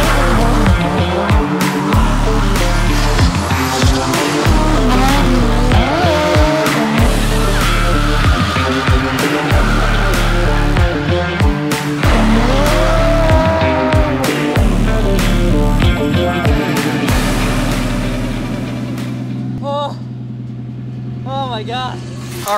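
Drift car ride-along at Ebisu Circuit in Japan with a Formula Drift champion at the wheel: a loud, pulsing engine roar with rhythmic throttle surges and tires squealing through slides, fading into a lower idle at the end.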